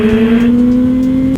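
A full-carbon BMW M1000RR motorcycle engine in dynamic mode holds a loud, steady droning note, heard up close for just over a second.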